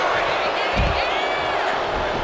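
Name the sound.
wrestling arena crowd cheering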